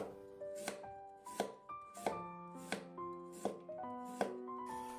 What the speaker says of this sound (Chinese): 去皮之后，再给它切成薄片，切得越薄越好